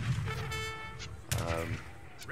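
Cannon fire in Age of Empires III: Warchiefs, two booming shots about a second apart, mixed with game music tones and light battle noise, at moderate loudness.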